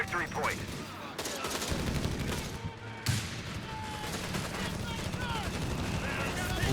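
Gunfire and grenade explosions from a Company of Heroes 3 battle crackle and thump continuously, with sharp bursts and booms layered densely throughout, moderately loud.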